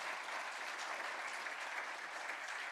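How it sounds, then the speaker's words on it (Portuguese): Applause for the honorees at a solemn civic session, a dense, even burst of clapping from an audience, steady and sustained with no voices above it. "Uma salva de palmas aos homenageados da noite de hoje."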